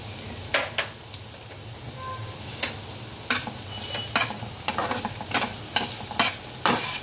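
Finely chopped onion sizzles in a hot pan with cumin during Indian paneer cooking, a steady hiss broken by repeated clinks of a spoon stirring against the pan, close and without talk.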